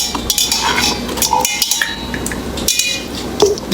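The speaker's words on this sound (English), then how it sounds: "So I open the sardine." A metal tin of sardines is pried and opened in a kitchen, with a run of clinking, scraping and tapping metallic sounds up close, irregular and fairly loud, without talk.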